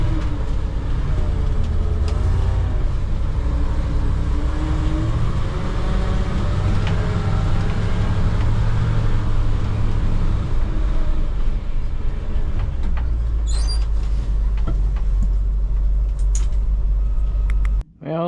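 A tractor runs in its unsynchronized first gear, a steady loud low engine drone with a grinding mechanical rumble, ending in a sudden clunk; a person talks over it.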